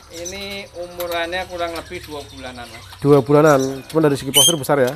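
Bright, warbling calls of a white-rumped shama ring out in short bursts, loud and close, at a bird shop while people talk beneath and between the phrases.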